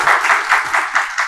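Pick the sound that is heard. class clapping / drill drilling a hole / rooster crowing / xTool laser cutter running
class clapping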